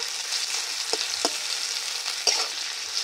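Onions sizzle steadily in a pan, browning to a reddish colour for a Bengali bitter gourd and masoor dal dish, with a few soft stirring knocks near the start and one near the end.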